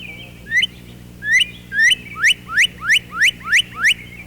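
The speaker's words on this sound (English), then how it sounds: "The singer is bright red and has a crest atop his head, a male northern cardinal." A male northern cardinal sings from the top of a tall maple, a loud clear whistled song of about nine rising slurred notes, the first few spaced out and the rest repeated in a quick steady rhythm.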